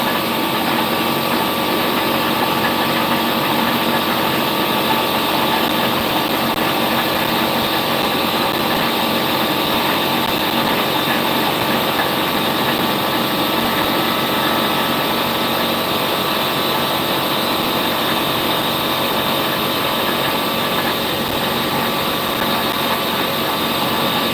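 A laser cutter runs steadily while cutting Christmas decorations, giving a constant loud whirring hum of fans and motors with no pauses and no talking.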